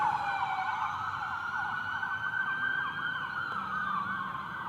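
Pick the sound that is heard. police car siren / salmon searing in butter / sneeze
police car siren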